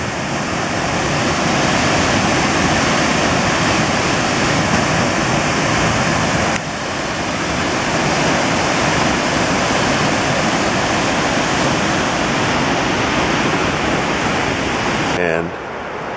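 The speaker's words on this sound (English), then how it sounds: "It's really flowing. A lot of water coming down through there, coming down Minnehaha Creek." Minnehaha Creek in Minneapolis running high, a loud, steady roar of rushing water that fills the whole stretch without pause.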